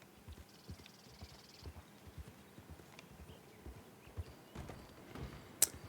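Horse hooves clip-clop in a steady walking rhythm in a video game, faint and continuous, with a few sharper knocks and a brief high chime near the end.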